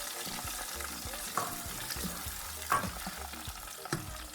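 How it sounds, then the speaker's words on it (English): Onions and tomatoes fry in a pot with a steady close sizzle, broken by a few soft stirring knocks and scrapes. "fry a little bit before you start adding other things"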